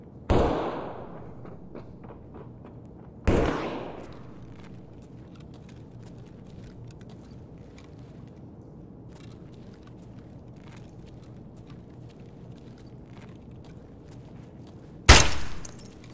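Gunshots in the video game Escape from Tarkov: three sharp, separated cracks, two close together early and one near the end, each with a short decaying tail over a low ambient rumble.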